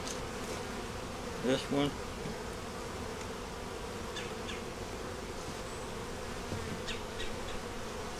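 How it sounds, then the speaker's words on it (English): Steady, dense buzzing of many honey bees close by at a hive, a continuous droning hum with a brief spoken remark partway through. "Got a lot of bees."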